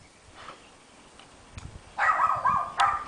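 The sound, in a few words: dog barking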